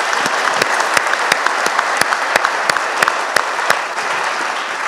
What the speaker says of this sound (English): Let's give a big applause to these guys.